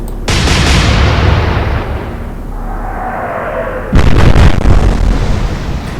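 Two heavy naval gun salvos boom out in the Atlantic Fleet game, each a loud explosive blast followed by a long rumbling decay, the second arriving about four seconds after the first.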